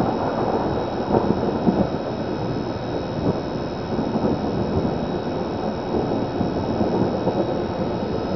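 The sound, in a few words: thunder during a thunderstorm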